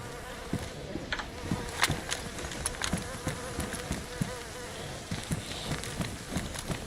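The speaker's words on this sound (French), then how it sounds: "on entend les mouches" Flies buzz steadily in a dense, close swarm around a corpse in the video game DayZ, with a constant droning hum and scattered louder passes, no voices.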